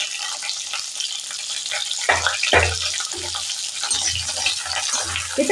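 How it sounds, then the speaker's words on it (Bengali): Beans frying in oil for a fish-head chhyachra, a continuous loud sizzling hiss with several low thumps and scrapes as the pan is stirred. "শিমটাকেও ভাজা করে নেব।"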